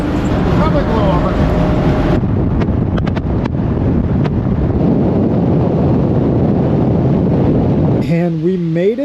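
Strong roadside wind buffets the microphone beside a road lined with big wind turbines in Nebraska, a loud continuous rumble that drops briefly, then surges back with a vehicle's rising drone near the end.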